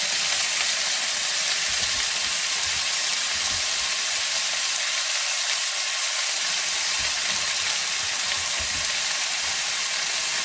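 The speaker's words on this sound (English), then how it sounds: "And we're going to put our onions right in there." Onions sizzle in bacon grease in a pan for potato soup, a dense continuous frying crackle close by, with soft stirring scrapes underneath.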